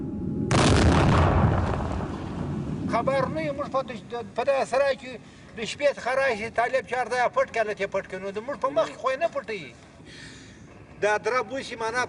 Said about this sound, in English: the last explosives are fired